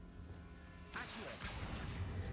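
Accio summoning spell cast in Hogwarts Legacy: a sudden bright whooshing burst with a crashing impact, then a second swish, rising out of quiet background ambience.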